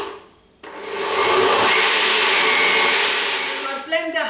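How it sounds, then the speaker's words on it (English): An electric blender purees roasted beetroot and butternut squash soup with cumin and vegetable stock, starting abruptly and running as a loud, steady whirring roar for about three seconds before cutting off. "And I'm going to blend again now."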